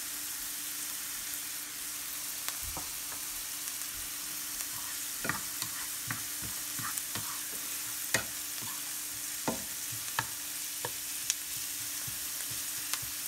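Onions sizzle steadily in a hot pan with a pinch of salt for a Tamil-style mutton curry, a constant frying hiss broken by scattered spoon scrapes and clicks, with no voices.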